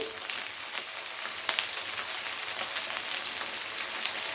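Papaya and onion stalks frying in a pan for a winter mixed-vegetable prawn curry, giving a steady close crackling sizzle with scattered sharp pops, no talking.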